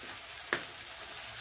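Spices with coriander powder and chilli fried in a pan, a faint steady sizzle broken by two short scraping stirs of the spoon.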